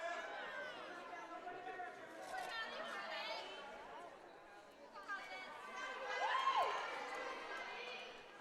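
Crowd noise at a junior varsity gymnastics meet, with spectators chattering and cheering during a bar routine: a busy hubbub of voices, heard fairly faint and distant, that swells slightly toward the end.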